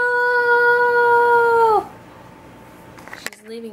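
An Alaskan Malamute howls close by in a long, steady, tonal wail that bends downward and breaks off, followed by quiet room sound and a few faint shuffles.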